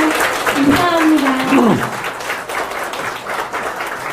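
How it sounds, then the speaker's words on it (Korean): An audience applauding at a lecture, a spread of clapping that carries on under and after a short burst of voice near the start. "네, 큰 박수 한번 부탁드립니다."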